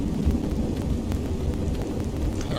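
A Skyrim thunderstorm gives a steady wash of heavy rain with a low rolling rumble of thunder underneath, continuous and fairly loud throughout, with no voices.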